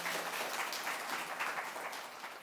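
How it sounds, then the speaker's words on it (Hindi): Audience applause at a university event marking National Education Day, a steady, dense wash of many hands clapping together, loud and continuous throughout with no voices on top. "इनके लिए तालियां बजा दी जाए।"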